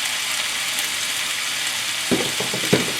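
Chicken and scrambled egg cooking in sesame oil in a single pot for moo shu chicken: a steady close sizzle of frying, then a few short stirring scrapes near the end.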